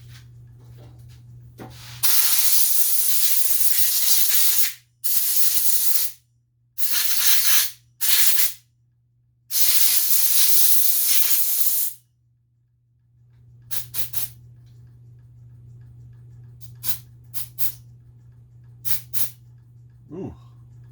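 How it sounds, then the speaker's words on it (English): Sharp, loud hissing blasts of compressed air blown through a Kawasaki FA210 small-engine carburetor, several bursts of a few seconds each with gaps, followed by a few short, fainter puffs, close up. "Try hitting this with some compressed air."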